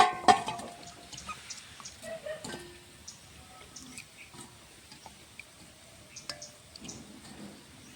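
Faint kitchen washing under running water: scattered drips, small splashes and light clinks against a sink, with a sharper cluster of knocks near the start.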